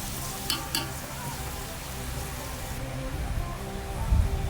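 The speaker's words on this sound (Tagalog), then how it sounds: "Lagay na natin yung karne. Igisa-gisahin lang natin." Beef being sautéed in a pan, with a steady, close sizzle and frying crackle running throughout and a few brief louder scrapes.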